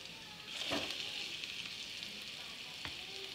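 Sliced pointed gourd (potol) fries in oil in a pan, a steady close sizzle with occasional soft stirring scrapes.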